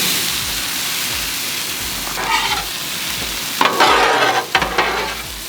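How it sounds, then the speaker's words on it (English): Peaches cook in butter on a Blackstone griddle, giving a steady loud sizzle with a few sharper crackling bursts and stirring scrapes near the end. "Peaches are cooking down nicely. Some of them are getting a little bit of a char on them."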